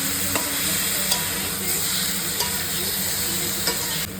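Chicken frying in a pan on a home kitchen stove, a loud continuous sizzle with regular scraping stirs every half second or so, close to the microphone and without talk.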